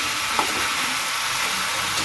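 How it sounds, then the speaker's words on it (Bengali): Meat braises in a pan while being stirred, a steady bright hissing sizzle with one small scrape near the start. "মাংসের কষা চলছে"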